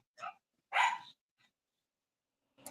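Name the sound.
dog barking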